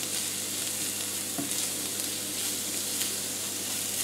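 Onion and garlic fry gently in a pan, an even close sizzle running throughout with a single soft knock of a spoon partway through, and no voices.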